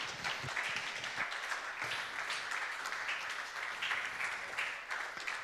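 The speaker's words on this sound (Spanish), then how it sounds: "Dale un aplauso al Señor, claro que sí." A church congregation applauds during a sermon, dense continuous clapping filling the room steadily for several seconds with no voices over it.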